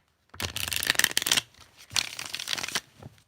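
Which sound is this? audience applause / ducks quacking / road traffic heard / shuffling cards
shuffling cards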